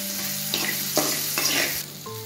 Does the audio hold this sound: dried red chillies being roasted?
yes